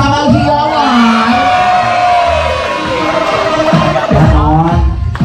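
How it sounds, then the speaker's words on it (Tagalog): Guests at a 70th birthday party break into loud group cheering and shouting, a dense crowd roar with whoops that stays strong throughout, likely mixed with clapping. "Sabay-sabay magpalakpakan na may kasamang hiyawan."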